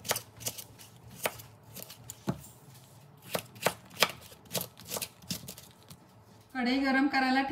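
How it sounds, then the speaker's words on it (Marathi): A knife chops through snake gourd on a board in a dozen sharp, uneven taps spread over several seconds. A voice starts speaking near the end. "आता हा पडवळ आपण चिरून घेऊयात"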